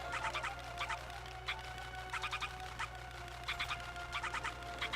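A cucco chicken in The Legend of Zelda: Twilight Princess HD clucks in quick repeated bursts, close and clear over a steady game background hum.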